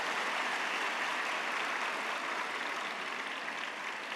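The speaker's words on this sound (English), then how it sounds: "Let's give a big round of applause, brothers and sisters." Sustained applause from a large audience at a 44th birthday celebration held at Muddenahalli, a steady dense clapping that fills the whole stretch without pause.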